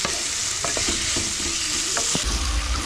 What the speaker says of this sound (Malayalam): നമുക്ക് അല്പം ഉപ്പുകൂടി ചേർത്തിട്ട് ഒന്ന് വഴറ്റിയെടുക്കാം